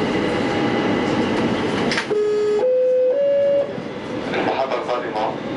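An Algiers metro train runs on its 17 km line from Martyrs' Square to Ain Naadja. Steady rumble of the moving carriages fills the clip, with a tonal whine that rises in steps partway through as the train gathers speed.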